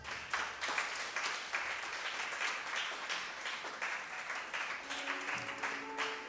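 A church congregation claps through a worship service, producing dense, continuous applause that fills the room. Faint tones appear toward the end.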